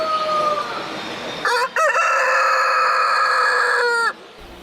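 Roosters crow loudly and close in the small-animal pavilion of an agricultural expo, one long sustained cock-a-doodle-doo rising over a busy background of other birds and crowd murmur.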